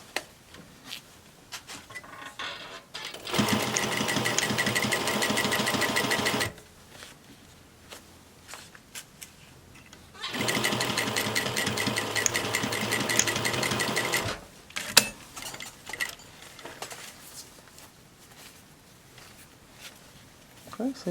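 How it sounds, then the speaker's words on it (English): Sewing machine stitching a fabric face mask in two steady, rapid runs of a few seconds each, separated by quieter stretches with handling sounds and someone talking. "So what I'm going to do is just sew down here and sew down here."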